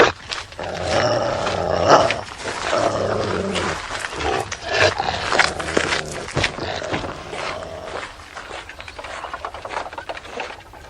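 A chained dog of a fierce-looking breed growls and snarls loudly and continuously, rough rumbling rising and falling close by for the whole stretch.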